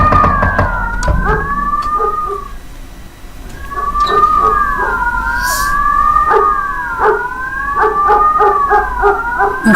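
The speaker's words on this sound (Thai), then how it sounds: "มีแต่เสียงหวอ" Police car sirens in the video game Mafia 2 wail continuously in rising and falling sweeps, loud and close, with a rapid yelping pattern near the end.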